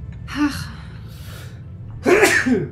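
A sneeze sounds near the end, loud and close, after a brief earlier gasp-like breath, in a quiet room during a German-language strategy game commentary.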